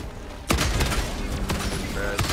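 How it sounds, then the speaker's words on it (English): Autocannon in the Helldivers 2 video game fires a few heavy, booming shots, the first loud onset followed by spaced thudding reports with rumbling tails amid battle noise. "I'm just gonna start firing autocannon shots at him for you."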